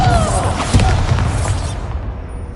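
Confringo fire-blast spell in Hogwarts Legacy exploding inside a closed mine, heard as a close, heavy boom with a whooshing roar that fades over about two seconds.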